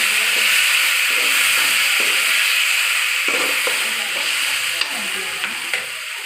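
Ginger garlic paste and mint frying for an Erode-style chicken gravy, a steady bright sizzle with scraping stir strokes throughout, close and continuous with no talk.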